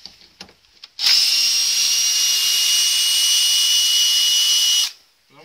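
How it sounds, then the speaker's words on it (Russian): Power tool backing self-tapping screws out in a shed: a single steady high-pitched whirring drill run of about four seconds, close and loud, preceded by a few small knocks. "где-то саморезы я еще смогу выкрутить"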